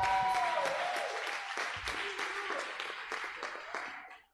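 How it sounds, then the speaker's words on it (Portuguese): Congregation applause at a church service, a steady round of clapping with a few voices and whoops over it, fading toward the end of a short burst. "cadê as palmas?"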